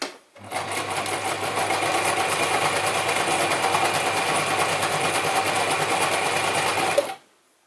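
A Gritzner 1002 or Pfaff 307 sewing machine stitches at a longer stitch length, a fast, steady mechanical whir that starts abruptly, runs evenly for about seven seconds and then stops.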